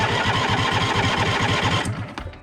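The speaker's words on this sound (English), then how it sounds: "See if she'll fire up, give it a full choke." John Deere D140 lawn tractor engine on full choke, running with a loud, steady, rapid chugging for about two seconds before cutting out and fading into quiet clatter.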